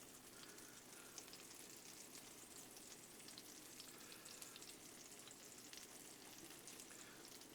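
A steady, quiet sizzle of pork chops frying on a hot Blackstone griddle, crackling and popping continuously with no talking.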